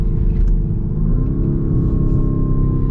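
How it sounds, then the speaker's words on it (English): A 2022 Lamborghini Urus with a turbocharged V8 revs loud and close, a steady deep engine drone whose pitch climbs partway through and then holds, with no talking. "For a turbocharged V8, this sounds pretty good."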